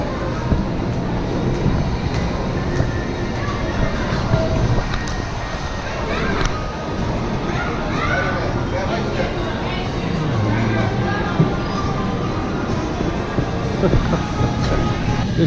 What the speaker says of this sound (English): Watch out, there's a train coming.